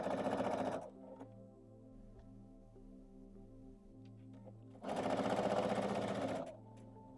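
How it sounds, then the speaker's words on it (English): A sewing machine stitching quilt scrap pieces together in two loud, rapid bursts of whirring, mechanical needle chatter at the start and middle, with a quiet hum in between. "I want it sewn to this side."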